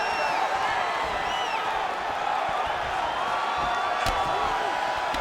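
Crowd noise from a UFC 4 video game fight, a steady roar of cheering and whoops from a large arena audience running the whole time, with one sharp impact-like burst near the end.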